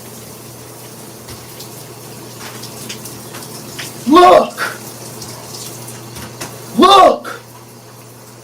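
Shower water runs with a steady hiss throughout, while someone shouts excitedly twice over the spray.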